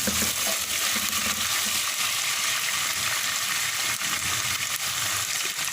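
Chicken pieces frying in hot oil for chicken korma, turning lightly golden, give a steady, dense sizzle with soft crackles throughout, close and continuous with no talking.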